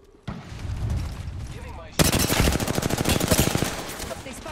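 Apex Legends gunfire: after a muffled rumble, a loud burst of rapid automatic fire breaks in, shots rattling in a fast rhythm up close before tapering off.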